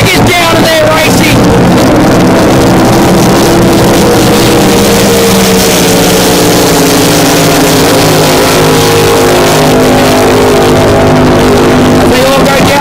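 Powerboats race at high speed on water at a Northern Rivers Aquatic Powerboat Club event during the Jacaranda Festival, engines roaring loud and continuous with shifting pitch as they accelerate, a commentator's voice running over the noise.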